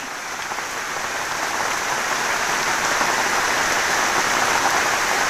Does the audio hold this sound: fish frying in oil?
no